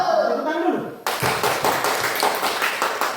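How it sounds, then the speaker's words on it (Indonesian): A school class bursts into a round of hand clapping after a group presentation, following a brief voice, with the claps continuing in a fairly even rhythm close by. "Tepuk tangan dulu."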